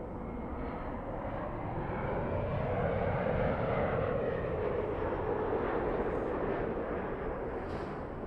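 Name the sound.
Delta airliner departing Los Angeles airport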